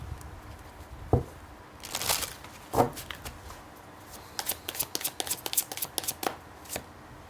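Tarot cards are shuffled by hand: a few separate riffles and slides, then a quick flurry of crisp card taps and flicks, close and fairly quiet, with no talking.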